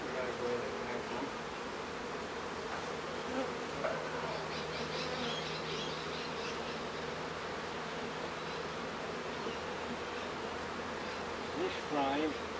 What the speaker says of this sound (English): these bees, not aggressive at all